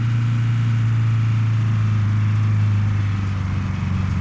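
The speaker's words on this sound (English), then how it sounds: "Oh, there's a truck coming." A low, steady engine drone of a truck in the video game PUBG, constant and fairly loud with no voices.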